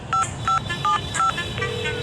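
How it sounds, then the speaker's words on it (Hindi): Four short electronic touch-tone beeps from a phone keypad, evenly spaced, followed by a steady tone, close and clear. "मैं अतर को वापस कॉल कर रहा था।"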